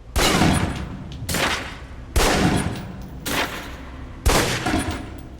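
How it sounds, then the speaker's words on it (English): Pistol fired at a target on a shooting range in the video game Alpha Protocol: five sharp, loud shots spaced roughly a second apart, each ringing out with a reverberant tail before the next. "Equip the pistol, then aim down range and take some shots at the target."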